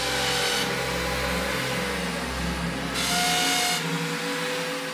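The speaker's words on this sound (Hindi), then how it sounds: "ये लोग दीवार में ड्रिल क्यों कर रहे हैं?" A drill bores into a wall with a steady high-pitched whine and grinding, continuous and fairly loud, with the pitch shifting as pressure changes and a low rumble underneath.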